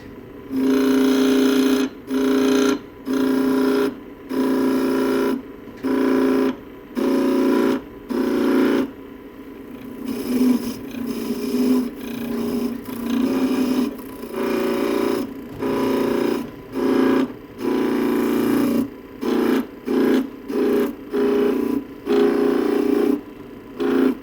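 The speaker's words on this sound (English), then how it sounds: "the way you make it furry is you run the skew backwards" A skew chisel run backwards against wood spinning on a woodturning lathe gives loud, close bursts of buzzing cutting noise, repeated in short regular strokes with brief pauses between them.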